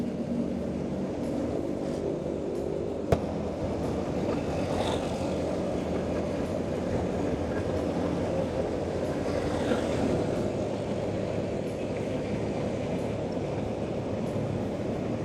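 Steady broadband rumble of an MRT train rolling past near Magallanes Station along EDSA, a continuous rail roar holding level throughout with one brief sharp click, no voices.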